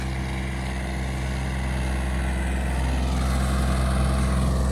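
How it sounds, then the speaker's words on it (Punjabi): A Swaraj 855 tractor strains to pull a stuck trolley, its engine giving a close, continuous, heavy low rumble that holds steady throughout with no voices. "ਬਾੜ ਜੂ ਬਾੜ ਜੂ ਕਰਦਾ ਟਰੈਕਟਰ"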